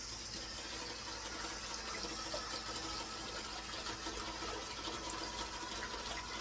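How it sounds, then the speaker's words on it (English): Water runs steadily from bathroom taps in a continuous broadband hiss that stays even and fairly loud throughout, with no voices. "I hear running water."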